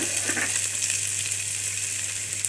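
Oil heating in a pan on a gas stove fries with a steady, loud hiss and crackle that runs without a break, over a constant low hum.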